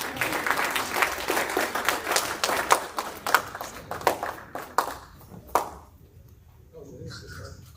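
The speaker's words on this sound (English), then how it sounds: "Y'all give him a round of applause." A church congregation applauds during a Sunday morning worship service, with loud scattered claps over background voices that thin out and fade after about five seconds.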